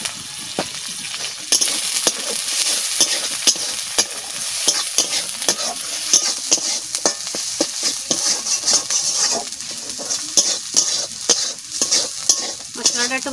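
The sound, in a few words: spice paste with onion and garlic frying and stirred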